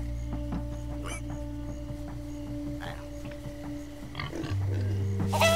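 Pigs oinking in Minecraft: Story Mode, several short snorts and grunts scattered over a droning game background, fairly faint, with a voice talking alongside.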